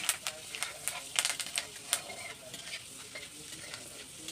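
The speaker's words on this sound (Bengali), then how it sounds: "মেথিও আমার ভাজা ভাজা হয়ে গেছে।" Fenugreek seeds fry in hot oil for a banana-stem dish, crackling with sharp irregular pops over a steady sizzle, close and clear, with a faint voice underneath.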